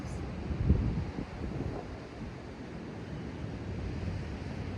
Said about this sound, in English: notice, once again, the sound of the ocean waves